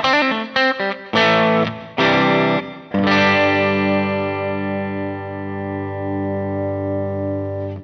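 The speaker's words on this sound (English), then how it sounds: "how it sounds when you lower the volume on the guitar" Distorted electric guitar through a Kemper profile of a Sovtek Tube Midget 50H amp with the guitar volume knob turned down, playing a few short choppy chords, then one big sustained chord ringing out and slowly fading, with no talking.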